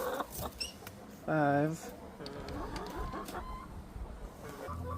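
Backyard chickens cluck and squawk close by during egg collection, with one loud harmonic call near the middle, while a person talks over the birds.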